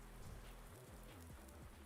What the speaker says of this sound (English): Ah, and it's raining.